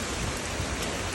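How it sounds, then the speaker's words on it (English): Drizzling light rain and strong wind from an atmospheric river's passing cold front make a dense, steady hiss, loud and close, unbroken for about a second with no voices. "all that like drizzling light rain and very strong wind"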